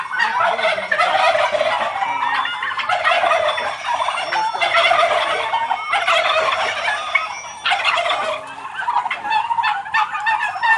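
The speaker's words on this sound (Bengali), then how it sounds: "টার্কিকে দেখুন অনেকগুলো টার্কি এগুলো রয়েছে পুরুষ মহিলা মিক্স করা" A mixed male and female flock of turkeys on a Bangladeshi farm gobbles loudly and almost continuously, many birds overlapping in bursts of rapid, warbling calls close by.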